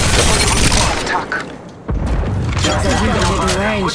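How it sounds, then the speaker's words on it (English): Gunfire in Apex Legends played on an iPad Pro: heavy, rapid booming bursts close up, with a short lull, then more firing under in-game voice lines. "I'm taking fire. Shooting at me."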